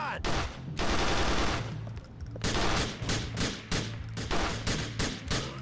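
Gunfire in Grand Theft Auto IV: The Lost and Damned crackles in loud, dense bursts of rapid automatic shots, pausing briefly and then resuming in choppy volleys.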